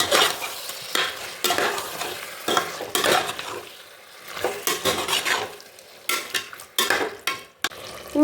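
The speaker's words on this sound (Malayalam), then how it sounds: "നന്നായി ഇളക്കാം. ഇനി കഴുകി വെച്ച ചിക്കൻ ചേർക്കാം." Washed chicken frying and being stirred in a pressure cooker for cooker chicken biryani, loud rhythmic scraping and clanking of a spoon against the metal pot over a constant sizzle, close and without talk.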